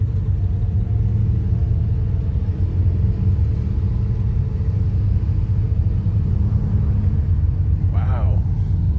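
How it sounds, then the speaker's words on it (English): Ferrari cars return from a parade lap at a track festival with a loud, continuous low engine rumble close by. A higher whine briefly rises near the end. "A few of the Ferrari guys just hit the track. This is them coming back in."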